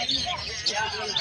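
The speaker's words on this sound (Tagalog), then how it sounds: "And ito naman po yung mga zebra finch." Zebra finches in a cage chirp in brief, faint, high tweets, while people talk close by.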